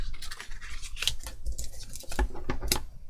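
Scissors snip paper craft tabs during a papercraft toybox build, giving a few crisp close cuts with small rustles of paper between them and no talking.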